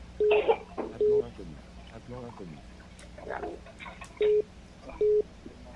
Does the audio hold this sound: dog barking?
no